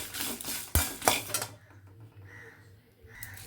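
Dry red chillies stirred in a hot pan while roasting for wedding-style vangibath. Close metallic scrapes and clinks are busy for the first second and a half, then settle into quieter, intermittent stirring.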